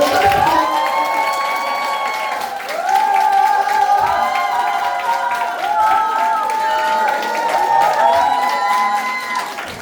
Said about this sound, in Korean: 대표님을 큰 박수로 모시고